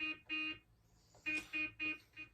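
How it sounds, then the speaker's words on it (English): A truck horn honks out Morse code: a pattern of short, bright toots in a rough rhythm, two at the start, then a gap, then four more in quick succession, fairly faint and with no other sound. "The gun starts honking Morse code"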